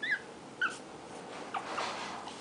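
A Shih Tzu puppy gives three short, high whimpers close by, spaced apart, with soft breathing and quiet room noise between them.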